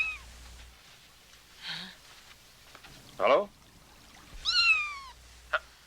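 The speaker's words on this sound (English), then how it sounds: "Someone's cat got into my apartment and scared the daylights out of me." A cat meows a few times inside an apartment, short rising and falling cries spaced apart, with a startled person's voice heard briefly between them.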